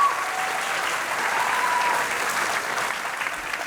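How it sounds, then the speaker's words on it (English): An audience at a scholastic sports association fish fry applauds Fort Walton Beach High School, steady clapping from a sizeable crowd lasting a few seconds. "A round of applause for Fort Walton Beach High School."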